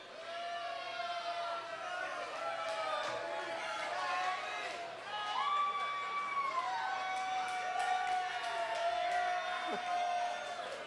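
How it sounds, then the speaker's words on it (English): A live audience at the 2007 Fox Reality Awards jeers in a sustained, wavering collective boo, each voice swelling and sliding in pitch, heard from across a large hall. "Are you guys really booing?"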